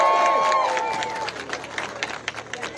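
Rally crowd in Washington, D.C. applauding and cheering for Dennis Kucinich, a loud swell of clapping and voices that thins into scattered claps and murmurs, with a voice briefly heard at the start.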